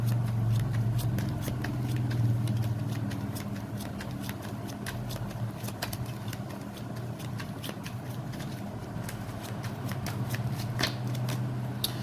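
Tarot cards shuffled continuously at close range, a dense riffling and flicking texture with rapid ticks throughout, fairly quiet against a low steady hum.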